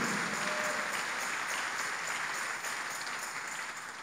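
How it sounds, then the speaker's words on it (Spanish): A church congregation applauds in a steady, sustained wash of clapping that holds at an even, fairly distant level for the whole stretch, with no talking over it. "Dale más fuerte el aplauso."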